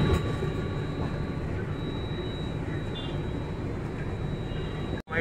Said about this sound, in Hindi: ट्रेन अब कानपुर भगन से निकल गई है